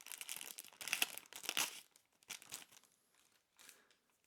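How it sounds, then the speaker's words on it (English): A plastic accessory packet holding a USB cable for a Ducky One 2 Mini keyboard is torn open up close, with bursts of crinkling and tearing that thin out into a few softer rustles. "Let's pop the packet open."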